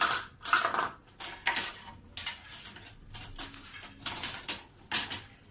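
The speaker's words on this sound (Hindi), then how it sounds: "तो मुझे ये हल्के हल्के इस तरह से भूनने हैं, धीमी धीमी आंच में" Black cardamom seeds roast over a low flame on a hot tawa griddle, making a string of light, close clinks and rattling scrapes in short irregular bursts with quiet gaps between them.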